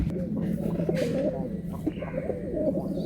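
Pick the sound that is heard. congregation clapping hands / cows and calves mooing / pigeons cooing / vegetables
pigeons cooing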